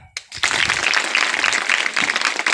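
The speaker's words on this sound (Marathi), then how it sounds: "टाळ्या" An audience at an antakshari competition breaks into loud, sustained applause right after a brief opening sound, with dense clapping to the end.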